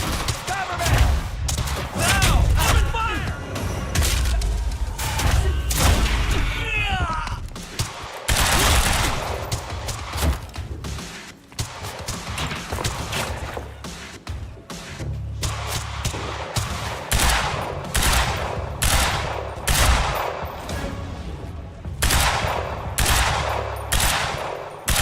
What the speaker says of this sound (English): I'm a fan of the carbine rifle